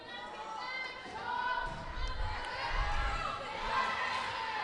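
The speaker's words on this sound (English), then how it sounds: "Got a good crowd on hand, cheering on both teams." Gymnasium crowd at a high school varsity volleyball match in Robbinsville, a steady wash of cheering, shouts and chatter, with a few low thumps of play underneath, moderately loud and continuous.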